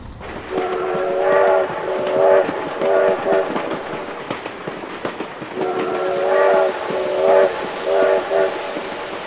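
Train in the BeamNG Drive driving game sounding repeated multi-tone horn blasts in two bursts over a steady rumble of wheels on rails.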